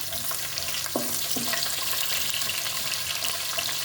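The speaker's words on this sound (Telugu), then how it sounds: "ఉల్లిపాయ ముక్కలు వేస్తున్నానండి. ఉల్లిపాయలు బాగా వేగితే బాగుంటుంది బిర్యానీ టేస్ట్గా." Onion pieces sizzling in hot oil in a pan for vegetable biryani, a continuous loud crackle with a couple of clinks from a stirring utensil early on.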